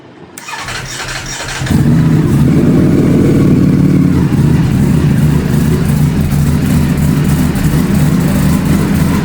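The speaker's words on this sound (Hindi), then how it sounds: "तो अब बारी है इस बाइक की स्टार्ट होने की।" A Ducati Panigale V4S fitted with a full Akrapovic exhaust system fires up after a quiet moment, a short starter crank giving way to a loud, deep, rumbling idle that holds steady and close.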